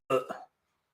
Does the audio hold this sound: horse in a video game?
no